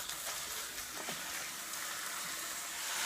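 Sausage frying in a hot pan for biscuits and gravy: a steady, soft sizzle with faint crackles and a light scrape, quiet and continuous with no talking.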